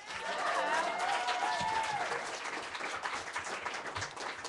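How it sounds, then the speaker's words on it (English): Audience clapping for the sound engineer at an evening live music show, strongest at first and then thinning, with a few voices talking over it. "And let's give a round of applause for John on sound tonight."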